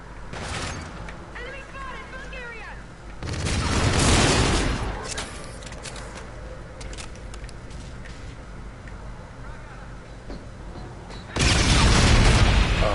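A grenade blows up in the shooter game Call of Duty: Infinite Warfare, a loud booming blast among other gunfire and game effects, with a second heavy burst near the end.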